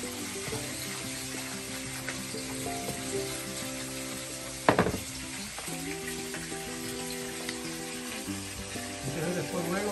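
Smoked pork chop sizzling steadily in a frying pan during mofongo cooking, a close, continuous crackle with a brief clatter midway, while faint voices and background sound run underneath.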